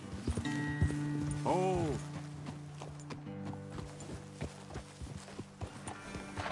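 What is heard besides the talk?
horses' hooves walking, from the video game Red Dead Redemption 2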